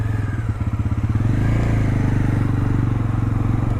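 A Hero Xtreme 125R 125cc motorcycle engine runs close by with a loud, steady, rapid thumping idle and a slight rise in pitch partway through, heard alone with no speech.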